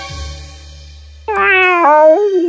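A cat gives a single loud, drawn-out meow close up, rising and then dipping in pitch, following a soft low rumble and some quiet musical tones.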